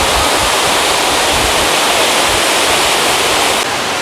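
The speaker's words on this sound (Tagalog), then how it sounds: "medyo marami yung agos ng tubig sa ngayon kasi nung mga nakarang araw umulan" Hinulugang Taktak waterfall in Antipolo, swollen after recent rain, roars with loud, steady rushing water close by, a continuous broadband wash with no talk.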